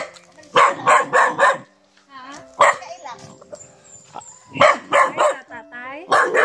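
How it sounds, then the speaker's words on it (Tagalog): Several dogs bark in short clustered bursts close by, with yips and whines between, while people talk nearby in Filipino. "Ay, maraming aso."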